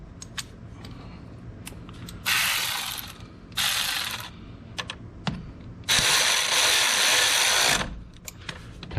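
Ratchet tightening a spark plug on a 2006 Dodge Ram 1500: three bursts of rapid, close clicking, the last one longest, with faint handling noises between them.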